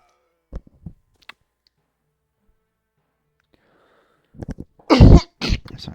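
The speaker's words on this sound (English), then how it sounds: "Sorry, a bit of cough there." A man coughs near the microphone, a few faint clicks and a short throat noise early on, then quiet, and a burst of several loud coughs near the end.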